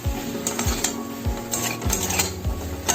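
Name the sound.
fish being stirred gently in a pan for oil-free katla curry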